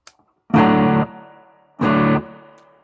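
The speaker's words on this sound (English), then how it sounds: "Here's the crunch sound with the reverb." Two separate crunchy, distorted guitar chords ring out through a Peavey Classic Chorus 212 amp with a long spring reverb, each struck hard and held about half a second, then trailing into a reverb tail. No one talks.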